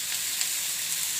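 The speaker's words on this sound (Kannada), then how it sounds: "ಅದನ್ನು ಇವಾಗ ನಾನು ಫ್ರೈ ಮಾಡ್ಕೊಳ್ತಿದ್ದೇನೆ" Onions sizzle and crackle in hot oil in a pan, a steady, close frying hiss with no pauses and no talking.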